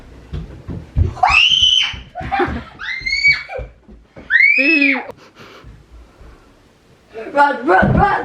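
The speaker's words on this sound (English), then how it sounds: "Screaming!" A person screams and shrieks in several loud, high-pitched bursts with gasps and breathy pauses between them during a house cleaning session.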